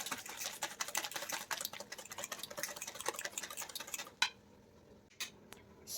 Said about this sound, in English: And then give it a nice whisk.